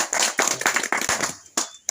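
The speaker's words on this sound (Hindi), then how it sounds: "तो एक तो जोरदार ताली भैया की" Applause for a speaker at a farmers' self-reliance talk: a short, dense burst of hand clapping from a gathered group, fairly close, fading and then a few late scattered claps.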